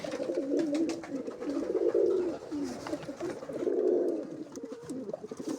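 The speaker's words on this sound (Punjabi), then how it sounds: "ਇਹ ਘਰ ਦੇ ਕਬੂਤਰ ਆ ਸਾਰੇ" Domestic pigeons kept for sale coo close by, in soft, throaty, rolling phrases that swell and fade in repeated waves, with faint chirps and rustling between them.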